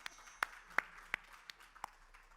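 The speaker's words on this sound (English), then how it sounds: "Round of applause." A small audience gives a sparse round of applause at a medical conference session, a handful of distinct, separate claps spaced out over a couple of seconds in a quiet room.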